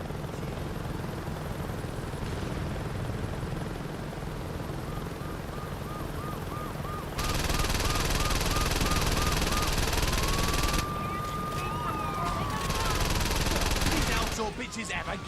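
Attack helicopters in Saints Row 2 drone with steady rotor chop under bursts of gunfire and explosions, the din growing louder midway, with someone talking over the game action.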